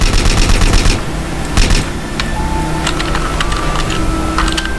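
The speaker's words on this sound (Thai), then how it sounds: "ต้องเอาปืนยิงแล้วฮะ" Gunfire in GTA San Andreas rings out as a dense, rapid burst of shots at the start, then scattered sharp cracks over a busy game background.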